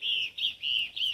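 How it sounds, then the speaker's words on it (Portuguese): Small birds chirp outdoors in short bright bursts, four clear tweeting phrases in quick succession, close and fairly loud with no talking. "Olha os passarinhos cantando, gente."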